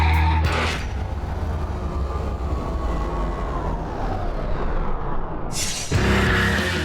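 A BMW M2 coupe is driven past, its engine and road noise a steady muffled rumble with a sharp louder burst at the start and again near the end.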